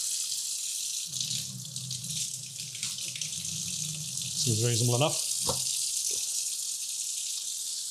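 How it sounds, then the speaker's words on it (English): Water runs steadily from a tap into a sink with a continuous hiss, heard alone at first, then beneath brief male speech near the middle. "Let's get the water hot."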